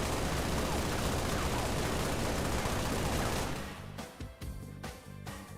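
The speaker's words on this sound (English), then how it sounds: "The work in progress beam rifle." A work-in-progress beam rifle firing in a Halo Reach mod: a sustained, loud wash of blasting noise that cuts off after a few seconds into a handful of separate, sharp shots with quieter gaps between them.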